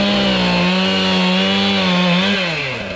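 A chainsaw cutting a fallen tree across a snowy road runs loud and steady close by, its engine droning at high revs for a few seconds before dipping slightly in pitch near the end.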